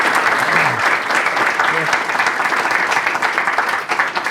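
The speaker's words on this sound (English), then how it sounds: "how about a round of applause again for Nolan?" An audience applauds at a talk on Hawaii zoning and housing, with steady, fairly loud clapping lasting throughout and a brief voice heard early on.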